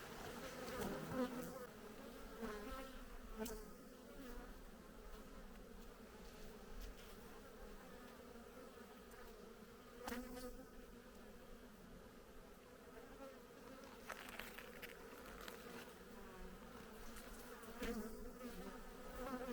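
Bees buzz steadily around a beehive on a summer day, a continuous droning hum with swells as individual insects pass close to the listener.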